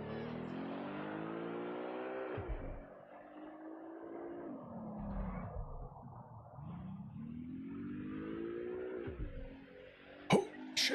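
A car engine in the video game Watch Dogs Legion revs up through the gears in rising sweeps, drops off, then climbs again, heard close and steady with a few sharp clicks near the end.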